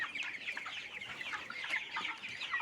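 Broiler chickens about 32 days old cluck on a poultry farm, a dense overlapping chorus of close, steady clucking from many birds.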